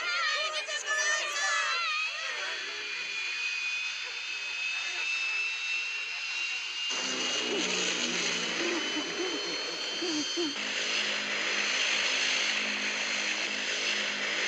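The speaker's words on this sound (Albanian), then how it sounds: "pse aeroplani ynë është kaq I vjetër?" An old propeller aircraft engine drones loudly and steadily, with a high whine that shifts pitch midway, and faint voices underneath.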